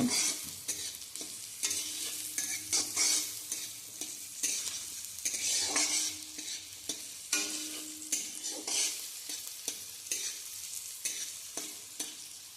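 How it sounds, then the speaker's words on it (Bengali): Chopped capsicum and mixed vegetables stir-fried in oil in a pan, bursts of sizzling broken by repeated scraping and stirring strokes, close and fairly quiet with no talking. "আবারও সবকটা সবজিকে তেলের মধ্যে নাড়াচাড়া করে ভালো মতো ভেজে নিতে হবে"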